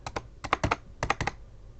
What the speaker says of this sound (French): quand j'appuierai sur la touche A